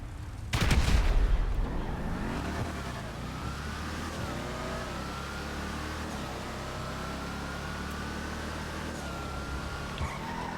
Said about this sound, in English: this is the most well-organized drag racing I've ever seen in GTA